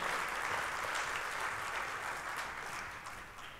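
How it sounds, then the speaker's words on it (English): Conference audience in Dubai gives sustained applause, a steady roomy patter of many hands that holds evenly before tapering slightly at the end. "And that's worth an applause"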